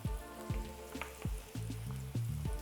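Asparagus cooking in a pot of quickly boiling water, giving a steady bubbling and crackling hiss with a few sharper pops, close and moderately loud, with no voices.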